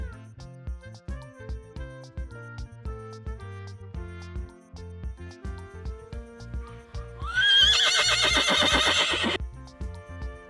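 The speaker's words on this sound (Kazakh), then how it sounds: "Жылқы." A horse gives one loud, drawn-out whinny near the end, rising above steady background music.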